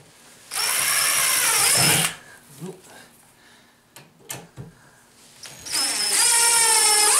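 A power drill driving a screw during a DIY snowmobile sleigh build, two loud whirring bursts of rising and falling motor pitch separated by a stretch of handling clatter and knocks.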